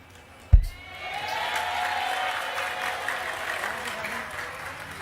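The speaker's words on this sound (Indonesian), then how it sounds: "Tepuk tangan sekali lagi." Audience applause at a public gathering with a speaker, a sharp thump, then sustained clapping that continues steadily for several seconds at moderate distance.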